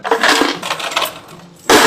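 Coins clatter out of the hopper of a coin-operated machine whose hopper was jammed with coins, a loud, close metallic jingle of many coins falling, a brief lull, then a fresh sharp rush at the end.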